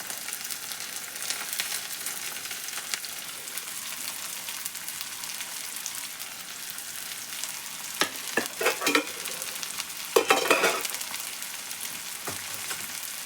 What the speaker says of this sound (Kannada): ಈಗ ಎಣ್ಣೆ ಒಳಗೆ ಫ್ರೈ ಮಾಡೋಣ್ರಿ ಇವನ್ನ. ಎಣ್ಣೆ ಒಳಗೆ ಫ್ರೈ ಆಗಲಿದೆ ಇವ.